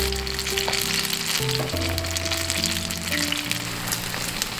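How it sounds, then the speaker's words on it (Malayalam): Banana fritters (pazhampori) deep-frying in hot oil, a steady, loud crackling sizzle throughout, with background music playing underneath. "നമ്മൾ ഫസ്റ്റ് ബാച്ച് പൊരിക്കാൻ വേണ്ടി ഇട്ടിട്ടുണ്ട്."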